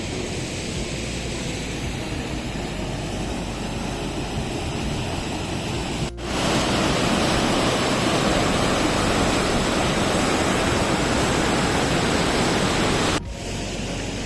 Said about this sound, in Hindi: तो अभी मैं जा रहा हूँ जहाँ पानी गिरता है वो